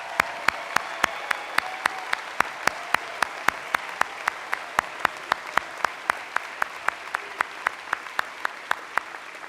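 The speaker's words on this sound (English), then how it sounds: "Daniel, please rise for our applause." Steady applause from a commencement audience at Berea College, sharp distinct claps in an even rhythm, moderately loud and close, with no talking over it.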